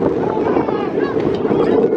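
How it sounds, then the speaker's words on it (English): Strong wind roars steadily across the microphone at an outdoor semi-pro football game between the Connecticut Militia and Connecticut Mustangs, a loud continuous gusty rumble. "The wind is really picking up."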